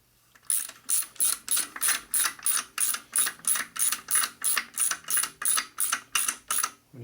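A hand ratchet clicks rapidly and evenly, about twenty sharp strokes in a row, close up and alone, tightening parts on a Harley-Davidson XL Sportster 650 single engine being rebuilt for land-speed racing.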